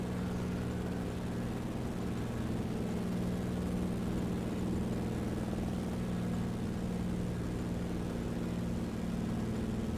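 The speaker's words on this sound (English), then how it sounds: "this is kind of a noisy plane, so hopefully you guys can hear me. Not exactly the quietest thing, especially on climb out" A light aircraft engine drones during climb-out over Idaho backcountry in Microsoft Flight Simulator 2020, heard as a steady, moderately quiet hum with a constant low tone throughout.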